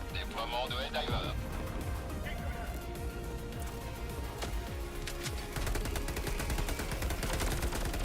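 Rapid automatic turret gunfire in Helldivers 2, with dense repeated shots and bursts through most of the stretch, loud and continuous, set against heavy battle noise and other game effects.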